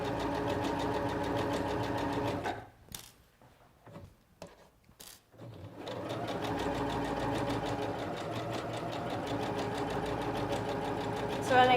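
A Singer Professional 9100 sewing machine stitches a blind hem with a rapid, steady mechanical whir. A pause in the middle brings a few isolated clicks before the stitching resumes and runs on, with a voice speaking at times.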